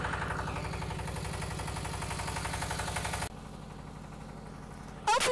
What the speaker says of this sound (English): start up the diesel machine. The diesel machine will operate with the draft fan together at this time